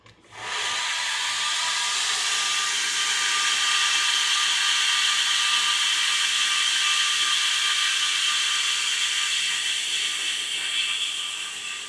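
An angle grinder in a blacksmith shop bites into metal with a loud, steady high-pitched whine that starts abruptly and holds unbroken for about eleven seconds, close by and without talking.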